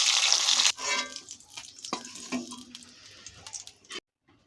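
Rohu fish pieces fry in hot oil for a Bengali doi rui curry, giving a loud, dense sizzle for the first moment, then softer crackles and a few scraping stirs before cutting to silence.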